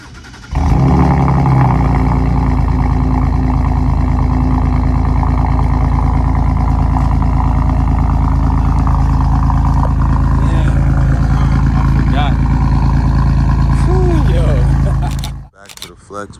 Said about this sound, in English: I have not started this car in a long time. I forgot what it sounds like.